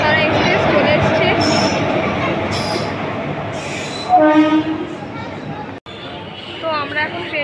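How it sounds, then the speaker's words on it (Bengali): The Tara Express rolls into Pandua station, loud and close, with rumbling wagons, squealing wheels and a horn blast, while people talk on the platform. "তারাপীঠ যাওয়ার তারা এক্সপ্রেস চলে এসেছে"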